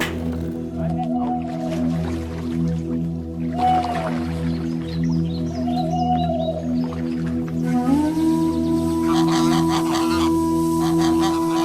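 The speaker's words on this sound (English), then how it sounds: "The geese were making noise" Geese in a city zoo garden let out honks and calls that rise and slide in pitch, heard at moderate distance over a steady background hum.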